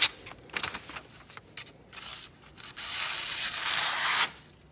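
A sharp knife edge push-cuts through material with a short rasping, tearing slide that swells and holds steady, then stops abruptly; close, dry friction with brief scraping touches before it and no talking.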